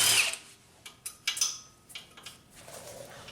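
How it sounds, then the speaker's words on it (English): Wrench loosening a 12mm brake hose bolt on a 2004 Honda Accord: a few sharp metallic clicks and ratcheting ticks, close and quiet, irregularly spaced with pauses. "first thing, take off this brake hose bolt. This is a 12mm."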